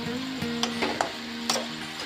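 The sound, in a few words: stirring red amaranth greens (lal shak) cooking in a pan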